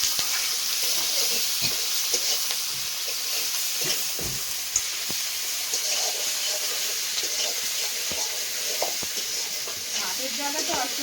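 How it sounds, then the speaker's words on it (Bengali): Ginger-garlic paste fries with browned onions in a pan for duck curry, a continuous close sizzle punctuated by frequent clinks and scrapes of stirring. "আদা রসুন বাটা দিয়ে দিলাম।"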